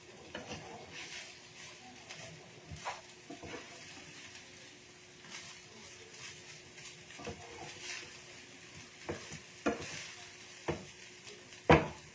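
Butter garlic paneer fried rice stirred in a pan over a high gas flame, giving a soft, steady sizzle with faint scraping strokes and a few sharp utensil clinks toward the end, with no talk.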